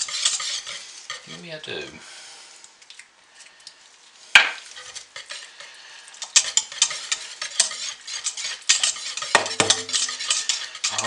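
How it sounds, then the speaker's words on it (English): Coffee soap batter being stirred by hand in a container: intermittent scraping, swishing strokes, one sharp knock partway through, then a denser run of quick stirs, with a brief soft voice. "Let me stir it a little bit, see what it looks like."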